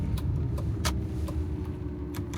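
A Lamborghini Gallardo driven on roads in Washington State gives a steady low rumble heard from inside the cabin, with a few light clicks and ticks over the continuous drone.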